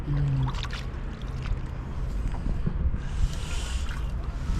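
Shikara boat ride on Dal Lake in Kashmir, with a steady wash of water and wind rumble against the microphone and faint lapping, with no voices.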